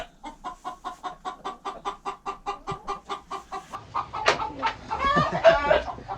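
A rooster clucks in a steady, rapid rhythm of short calls close by, ending in a louder flurry of agitated squawks.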